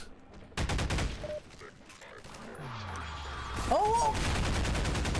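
Gunfire from the Half-Life 2 video game: a burst of rapid shots, then scattered bangs and mechanical effects, with a player's brief exclamations over the game audio.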